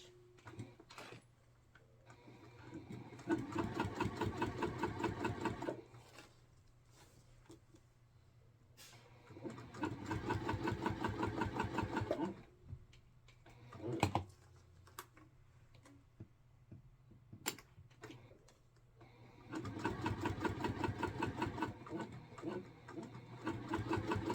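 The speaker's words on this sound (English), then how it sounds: "then we're going to top stitch these at 1/8 of an inch" A sewing machine top stitching a bag at one-eighth inch runs in three bursts of rapid, even mechanical rattle, separated by quiet pauses with faint handling clicks.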